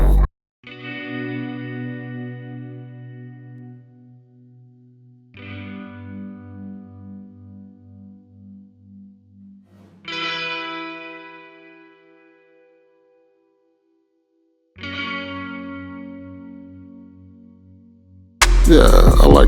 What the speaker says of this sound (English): this is the H240 gold foil verb. Guess it's like a plate or something.